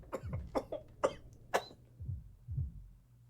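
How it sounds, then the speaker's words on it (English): Repeated coughing from a sick sailor aboard a ship in the video game Return of the Obra Dinn, about six harsh, close bursts in an uneven rhythm, with low chesty rumbles trailing the later coughs. "I have heard that cough often enough coming out of my own body"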